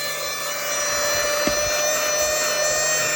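An inexpensive Temu handheld car vacuum cleaner runs with its suction on, giving off a steady, close motor whine and airy hiss. A brief scraping bump is heard partway through and no one speaks.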